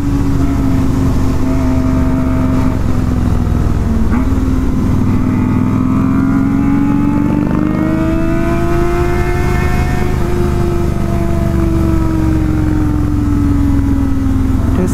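A Harley motorcycle and a Kawasaki ZX ride together, engines loud and close throughout, with a steady drone rising and falling as the throttle opens repeatedly.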